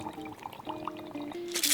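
Half a cup of water is poured for a recipe, with a short rushing splash near the end following a few soft trickles, under a speaking voice.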